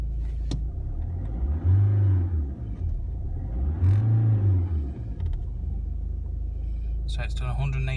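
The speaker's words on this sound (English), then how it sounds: "There you are, first turn of the key. Idle's really nice." A car engine runs at a smooth, steady idle just after being started with the key. The low rumble is close and sits under a voice. It swells gently twice, and a brief clatter follows near the end.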